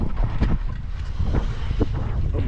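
Motorbike engine roaring through a wheelie stunt outdoors, with wind buffeting the microphone and the revving rising and falling in short bursts, loud and close.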